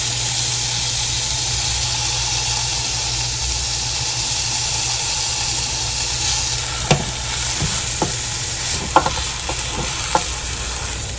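A heavy Boston butt pork roast sears in a hot pan with a steady, loud sizzle throughout. A few sharp clicks and scrapes of the meat being moved come near the end, with no voices.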